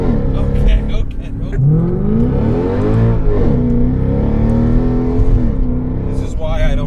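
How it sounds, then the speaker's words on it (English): A car doing a burnout while accelerating hard, its engine roaring loudly and climbing in pitch through several rises, close up, with excited voices talking and shouting over it. "Did you feel the burnout?"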